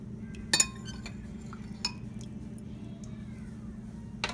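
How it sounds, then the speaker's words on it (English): A spoon clinks a few times against a container while stirring pomegranate juice, three or four sharp separate taps over a low steady hum. "Give that a little stir."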